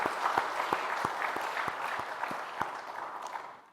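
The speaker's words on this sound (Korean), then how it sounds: "우리 하나님께 영광의 박수 한번 힘차게 올려드리시고" A church congregation claps together during a Sunday worship service, loud sharp claps in a rhythmic beat over a broad wash of applause that fades away at the end.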